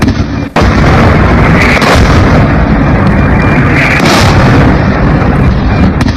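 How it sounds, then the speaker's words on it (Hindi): A very loud Iranian missile blast erupts in Israel, then a heavy, sustained rumbling roar fills the air without letting up. "ये ईरानी मिसाइल आकर गिरी है और ये धमाका इजराइल में हुआ।"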